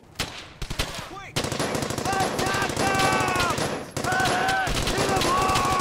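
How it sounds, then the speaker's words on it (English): Dense, sustained automatic gunfire from several friendly squads converging on a small German squad in the World War II shooter Brothers in Arms: Hell's Highway, loud and continuous after a few opening bursts, with game music tones layered underneath. "Literally every single one of my squads, all shooting at this one tiny German squad."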